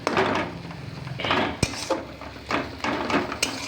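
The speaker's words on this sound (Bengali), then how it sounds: "এবার ধনেপাতা দিয়ে আমি নেড়ে চেড়ে ভাজতে থাকবো। প্রচুর ঘাঁটতে হবে, মানে খুন্তি করে এইভাবে।" A metal spatula scrapes and knocks against a pan while stir-frying with coriander leaves, with steady clattering strokes and one sharp tap partway through, close and fairly loud.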